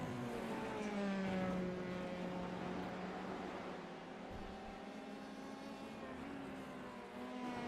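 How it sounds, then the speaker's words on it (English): Open-wheel F3 race car in a sim racing game at Zandvoort, its engine droning loudly and steadily, pitch sliding down through downshifts, with no talk over it. "He downshifts there."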